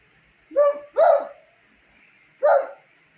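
A voice imitates a dog barking, giving three short yelping barks, two close together and one after a pause.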